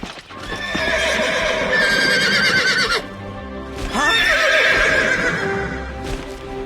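A horse neighs loudly and repeatedly up close, long whinnying calls with a short break between them, hooves clopping underneath.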